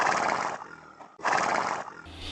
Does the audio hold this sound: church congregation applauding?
no